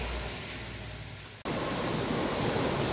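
Sea waves wash onto the shore at Real, Quezon, a steady hiss of surf with an abrupt cut partway through, after which a brighter, fuller wash continues.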